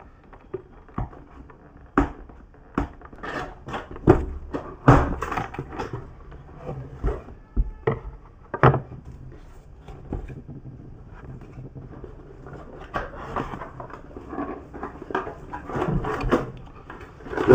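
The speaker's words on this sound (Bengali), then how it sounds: "আমি এই প্যাকেটটা খুলছি।" Packaging for a teleprompter device being opened by hand: irregular rustles, crinkles and soft knocks of box and wrapping, fairly close, with louder bursts of handling partway through and no talk.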